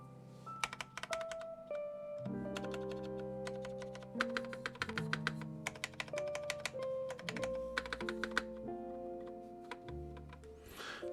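Typing on a Linworks Dolphin mechanical keyboard, checking its stabilizers: a close, steady run of crisp clacks and thocky key presses with a few heavier bar strokes, alone without talk.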